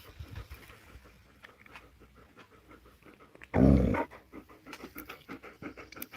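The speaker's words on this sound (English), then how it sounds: "Are you growling at Odie?" A dog panting close by in a home, with steady quick breaths, one loud rough burst in the middle that could be a growl, and then more soft panting and scratchy movement.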